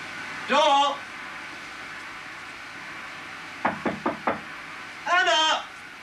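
Four sharp knocks on a wooden door come in a quick group, loud and close, between two short spoken calls.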